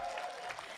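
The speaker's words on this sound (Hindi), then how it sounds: "हाय हाय, क्या ताली बजाई है" An audience at a Hindi kavi sammelan poetry gathering claps in a brief, dense burst of steady applause, moderately distant and even throughout.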